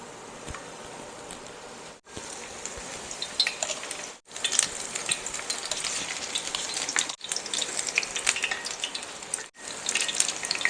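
Battered homemade onion rings fry in hot oil in a skillet with a steady crackling sizzle, broken by a few brief gaps and occasional light clinks, with no talking.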